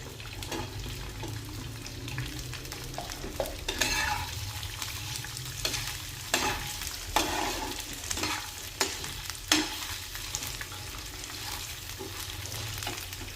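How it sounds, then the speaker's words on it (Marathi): Green chillies roasting in a little oil on a hot tava griddle for kharda: a steady close sizzle runs throughout, with occasional scraping and stirring knocks, and no speech. "हे तव्यावरती चांगलं आधी भाजून घ्यायचं आहे।"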